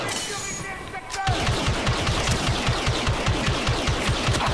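Rapid, steady automatic blaster fire in the Star Wars Battlefront 2 video game, close and loud, with shots following one another in a quick, even rhythm after a brief quieter opening.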